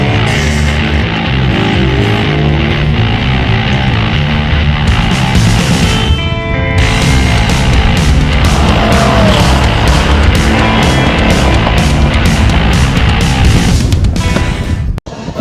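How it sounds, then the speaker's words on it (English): An MGA classic car drives a rally road in Mexico, its engine a steady, loud drone throughout with gear changes and rising revs, sharp clicks near the middle, and a brief dropout at the very end. "the MGA takes to the road again, hoping to catch up to the 914."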